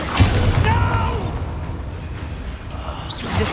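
A Confringo explosion spell in Hogwarts Legacy bursts with a loud boom and whoosh at the start, followed by a rumbling tail and smaller mechanical swishes that trail off.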